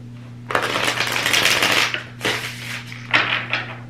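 Slick tarot deck being shuffled up close: one long riffling burst followed by two shorter riffles, crisp card flutter over a steady low mains hum, no talking.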